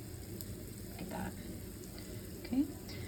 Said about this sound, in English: Just came out of the oven, nice and sizzling hot.